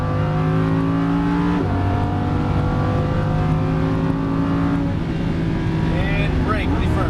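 A Lamborghini Huracan LP610-4 accelerates on a track, its loud engine note rising through the gears with a shift break and layered harmonic whine, heard from inside the car.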